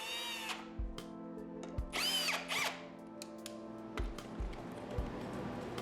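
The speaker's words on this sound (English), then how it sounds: "Now I'll just unscrew this off of my piece of scrap wood." Power drill backing screws out of a piece of scrap wood, several short whirring bursts with clicks and pauses between them, close and clear, no talking.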